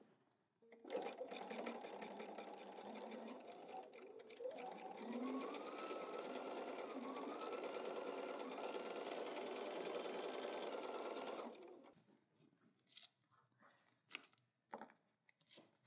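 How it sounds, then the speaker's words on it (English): A sewing machine stitching the two pinned ends of fabric together, a close, steady mechanical whirr that speeds up briefly and runs for about ten seconds before stopping, followed by a few faint handling clicks. "now we go pin the 2 ends and we sew"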